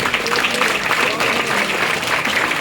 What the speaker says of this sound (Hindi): और ये ताली आपके खुद के लिए है, खुद के स्वास्थ्य के लिए है